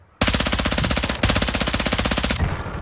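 Rapid, sustained machine gun fire from a video game weapon, one long loud burst of evenly spaced shots with a brief hitch partway through, then stopping abruptly.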